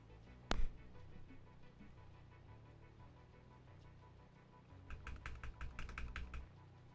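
Typing on a computer keyboard that has been acting up after a water spill: a single sharp thump, a quiet stretch, then a rapid burst of close, light key clicks near the end, with no talk.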